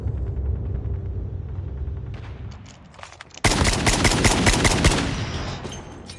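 Loud, dense gunfire from Call of Duty Mobile in a Battle Royale match, with sporadic shots and low rumble at first, then a sudden burst of rapid automatic fire continuing to the end.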